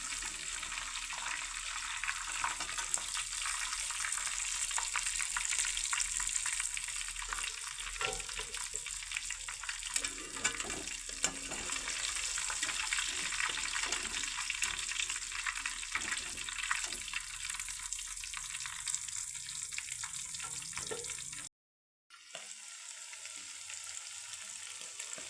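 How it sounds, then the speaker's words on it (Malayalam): Mustard seeds spluttering in hot oil as the base for a Kerala chicken curry: a dense, continuous crackling sizzle, close and even, with a brief gap near the end. "ചിക്കൻ കറിക്കുള്ള കടുക് പൊട്ടിക്കുകയാണ്."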